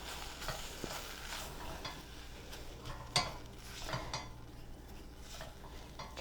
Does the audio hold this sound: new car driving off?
no